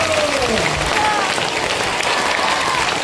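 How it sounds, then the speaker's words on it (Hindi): Church congregation at a cross festival clapping loudly with both hands, giving a continuous dense roar of applause from start to finish, with a voice heard faintly over it. "दोनों हाथ उठाएंगे और दोनों हाथ से जोर से ताली बजाएंगे।"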